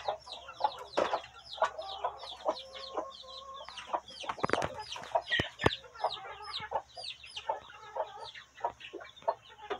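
Hens in a backyard coop with young chicks cluck and chatter close by, a busy overlapping run of short calls and squawks with a few sharp louder bursts near the middle, no talking heard.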